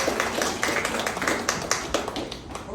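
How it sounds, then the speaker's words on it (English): A group of children clap together at a school gathering, with uneven, overlapping claps that form a steady patter. It is moderately loud and close, with faint talk mixed in underneath. "Give yourselves a round of applause."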